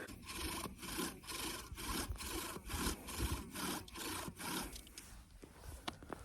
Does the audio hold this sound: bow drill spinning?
yes